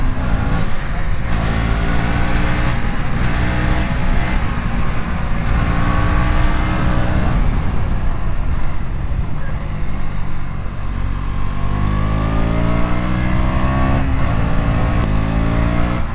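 A 2024 KTM Duke 200 motorcycle runs under riding load, its single-cylinder engine droning steadily and loudly with rising and falling revs and wind noise throughout, no voices over it.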